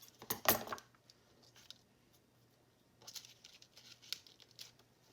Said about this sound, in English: Just want to cut the corners here.